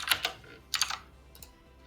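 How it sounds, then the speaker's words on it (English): Computer keyboard typing during a coding stream: a few quick bursts of clicking keystrokes, close and fairly soft, separated by short pauses with no talk. "which is basically when I'm typing the values"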